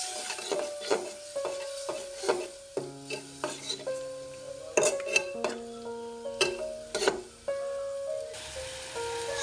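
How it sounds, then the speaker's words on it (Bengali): Spices cook with a little water in a pan under a low sizzle, while a utensil scrapes and clinks repeatedly against the metal, leaving ringing tones. "সব মশলা কষিয়ে নিচ্ছি।"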